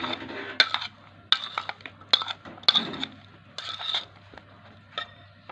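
A metal spoon stirring red chili, salt and spices into dahi baray in a bowl, giving repeated sharp clinks and scrapes against the dish at an uneven rhythm, close and clear.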